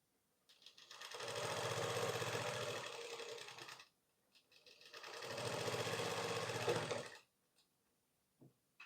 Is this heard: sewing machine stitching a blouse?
yes